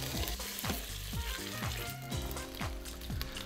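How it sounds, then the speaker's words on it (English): Pork shoulder sears in a hot pressure cooker pan, giving a steady dense sizzle broken by repeated low thuds and scrapes. No one speaks. "Once your pan is hot, you can start to cook your meat."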